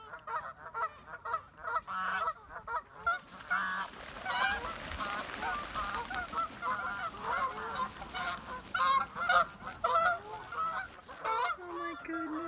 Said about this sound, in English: Boy, those geese sure make a racket.